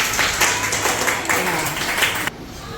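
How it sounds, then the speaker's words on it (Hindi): Children in a classroom clap for themselves in a maths lesson, a burst of dense, scattered applause lasting about two seconds that then stops abruptly. "अपने लिए ताली बजाओ।"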